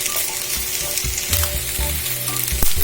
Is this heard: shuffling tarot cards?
no